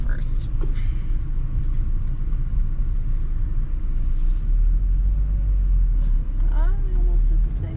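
A 2021 Mazda MX-5 Miata engine idles and rumbles low and steady from inside the cabin as the manual gearbox goes into first, with people talking briefly over it.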